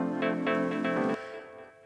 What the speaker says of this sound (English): and together with the piano chops and the synth chords,